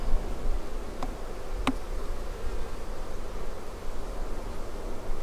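Honeybees hum around an open hive in a bee yard while a queen is let go, a steady close buzzing drone throughout with a couple of brief clicks and no talk.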